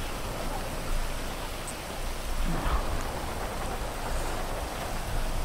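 Steady rain falls in the open world of the video game GTA V, a soft even hiss of drops that stays at one level throughout, with no speech over it.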